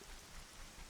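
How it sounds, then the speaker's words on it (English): Steady rainfall in Kakariko Village in the video game The Legend of Zelda: Ocarina of Time, a soft, even hiss of rain heard alone at low level for under a second. "it's just raining in Kakariko Village"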